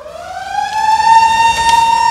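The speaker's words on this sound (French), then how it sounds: "8 heures, la sirène du CEG Saint-Rita retentit" The school siren at the CEG Sainte-Rita exam centre sounds, a loud steady wail that rises slightly in pitch and holds through the whole stretch with no voices over it.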